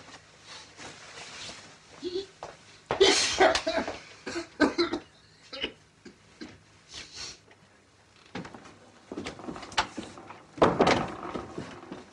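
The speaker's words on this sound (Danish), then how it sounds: "han både hoster og er hæs" A man coughs repeatedly in an interior setting, several harsh bursts spread across the stretch, mixed with quieter rustles and knocks in between.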